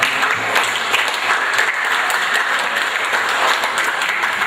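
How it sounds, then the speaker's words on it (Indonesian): Seminar audience applauding steadily and fairly loudly throughout, a dense wash of many hands clapping with no pause. "marilah kita beri aplaus pada para"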